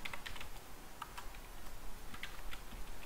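Quiet, steady typing on a computer keyboard, light irregular key clicks coming in quick bursts over a faint background hum.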